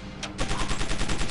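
Rapid automatic gunfire from weapons being tried out in the video game Chaser, a quick burst of repeated shots after a single opening report, loud and close with no talking.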